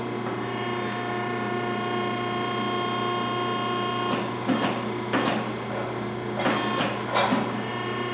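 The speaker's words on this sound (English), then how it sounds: "We're going to bend this pipe here about a 45-degree angle." A Chevy exhaust pipe is bent to about 45 degrees on a machine, heard as a steady mechanical hum with tonal whine, then a few bursts of grinding, creaking strain near the end.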